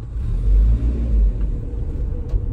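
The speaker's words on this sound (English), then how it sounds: "There it is, a Toyota starts right up." A Toyota car engine rumbles close by, a deep steady drone that swells as the car pulls away through a parking lot.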